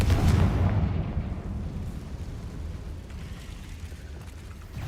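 A Confringo fire spell blast in the game Hogwarts Legacy: a loud, deep explosive burst at the start, trailing into a rumbling low roar that fades gradually.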